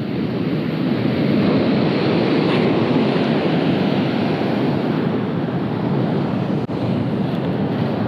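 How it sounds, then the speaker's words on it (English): Ocean surf washes up a beach in a steady, loud rumbling roar with wind buffeting the microphone, no voices over the continuous wash. "got these waves coming up the beach"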